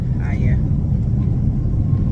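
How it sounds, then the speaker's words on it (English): Airliner taxiing on a runway, heard from inside the cabin as a steady, loud low rumble of engines and wheels that holds throughout with no breaks. "We've been waiting about an hour in the plane. And it's moving now, only just now."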